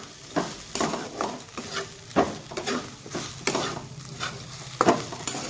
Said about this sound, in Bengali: সবজির সাথে আমি সুন্দর করে 5 মিনিটের মতো আমি ভেজে নেব ওটসটাকে।